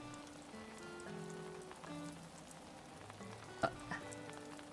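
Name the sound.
rain falling in Animal Crossing video game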